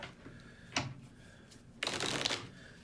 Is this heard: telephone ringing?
no